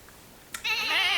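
A sheep bleats once, loud and close, a wavering quavering call lasting about half a second after a brief quiet lead-in.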